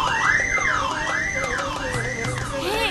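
Wavering electronic siren tones sweep up and down in repeating arcs, a car alarm sounding steadily with no talk over it.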